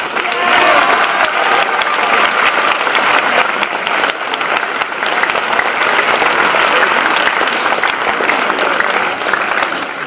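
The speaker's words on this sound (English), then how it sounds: "Let's give them a round of applause" An audience applauds students at a high school academic signing ceremony, loud sustained clapping filling the room for about ten seconds with faint voices mixed in.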